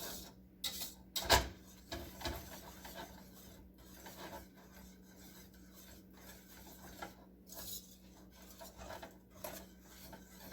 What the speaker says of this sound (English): Stir this up real good. The butter's melting.